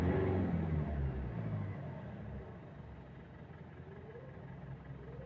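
A Mitsubishi Strada pickup with the 4N15 diesel engine and a lit check-engine light runs steadily, a low, close rumble that is louder at first and then settles to an even idle-like hum.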